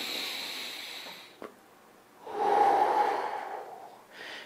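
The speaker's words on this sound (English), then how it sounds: "Keep going with the breathing." Slow, deep breaths in and out during a seated wheelchair cardio workout at home, with a soft intake, a long airy exhale swelling in the middle, then another breath starting near the end.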